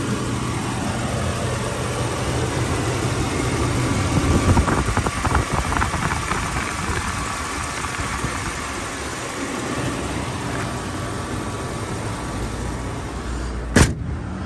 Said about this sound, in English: Shot of the engine.